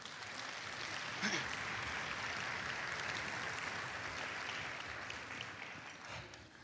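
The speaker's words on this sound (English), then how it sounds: "Let's go ahead and give Dr. Rollins a round of applause." Audience applause at a school band concert, a sustained wash of clapping from a crowd at moderate distance, with a faint shout or voice near the start.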